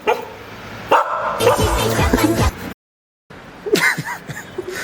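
A dog barks several times close by, sharp loud woofs in two clusters separated by a short silent gap.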